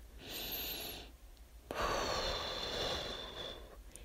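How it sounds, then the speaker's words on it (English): A deep breath drawn in and let out slowly, close and soft, as a slow inhale and then a long exhale with nobody talking. "Just take a deep breath"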